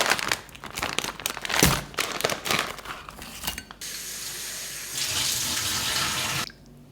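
Running tap water fills a bowl to defrost frozen baby octopus in a home kitchen, with clattering and crinkling handling sounds at first, then a steady, loud gush of water that cuts off near the end.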